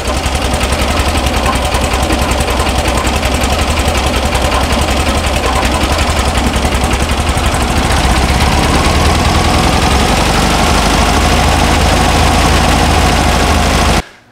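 A 1964 VW Beetle air-cooled engine idles steadily and close by, with a fast, even chatter that holds for about fourteen seconds before cutting off abruptly.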